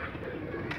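A pigeon coos softly as a hen bird settles down after her first flight, a faint, brief murmur against a hazy outdoor background.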